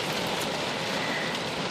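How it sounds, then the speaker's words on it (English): Heavy rain downpour: a dense, steady hiss of rain pouring on surfaces, loud and unbroken, with no voices. "You guys see this rain? I mean, it is crazy downpour today."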